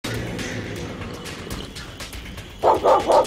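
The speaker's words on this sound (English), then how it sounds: "Shut up, you stupid dog." A dog barks three times in quick succession at the end, loud and close, after a stretch of quieter background noise.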